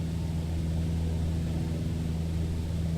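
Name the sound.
small airplane engine during steep turn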